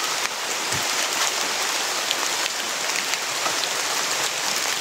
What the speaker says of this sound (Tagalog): Malakas na talaga yung ulan bro.